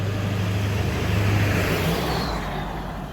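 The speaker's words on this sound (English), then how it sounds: "Just wait for this truck to go past." A truck drives past on a road near Piercebridge, a loud, close rumble of engine and tyres that swells through the middle and eases slightly toward the end, with no talk.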